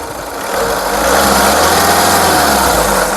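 A 2013 Skoda Rapid Elegance TDI diesel is revved up from idle, its loud, close engine note rising and holding steady with no one talking.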